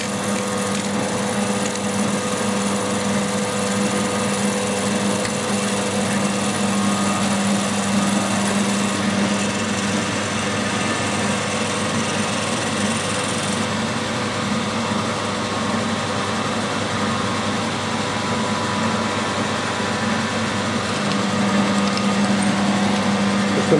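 A milling machine runs steadily while drilling 40mm deep holes for a mill extension, a constant mechanical whine and hum with a strong low tone, close and unbroken throughout with no talk.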